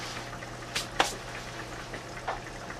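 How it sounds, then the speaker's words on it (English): A pot of chicken and potato chowder with celery and ginger simmers gently, giving a soft, steady bubbling with a few brief splashy pops, quiet and close with no voices. "as you can see, it's boiling a little bit"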